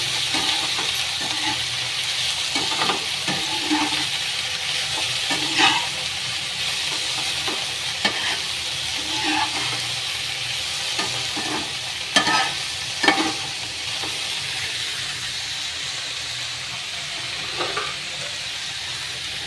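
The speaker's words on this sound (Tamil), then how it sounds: "அடுப்பு சிம்மில் வச்சுட்டு கொட்டிட்டு கிளறி விடுங்க" Steady sizzling of cluster beans frying in a pan, with intermittent scraping and clinking as a utensil stirs them, close and continuous, no voices.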